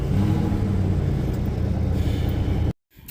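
A 1964 Ford F100 engine runs with a loud, steady rumble that stops abruptly near the end, followed by a brief quiet pause.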